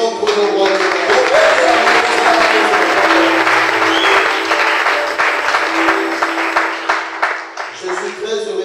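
Church congregation applauding at a Sunday service, a dense, steady wash of clapping that holds loud for most of the stretch before thinning slightly near the end, with voices faintly mixed in.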